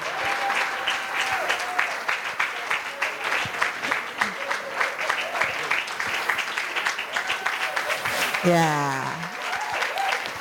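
Audience at a women's finance and investment summit in Ghana applauds steadily to welcome a guest speaker, dense clapping sustained throughout, with a voice speaking over it briefly near the end.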